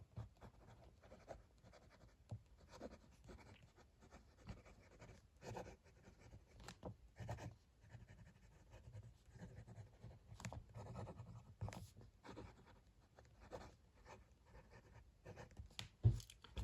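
Titanium Titaner fountain pen nib scratching across paper, a close, quiet run of short strokes and pauses with soft irregular scraping, alone without voices.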